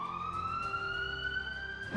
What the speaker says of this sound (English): app in our phones will play this siren sound and speak to us